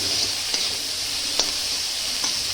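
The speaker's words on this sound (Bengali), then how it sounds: "ভাজবো।" Mixed vegetables and capsicum fry in a kadai over a lowered gas flame, giving a steady close sizzle broken by a few light clicks of a spatula against the pan.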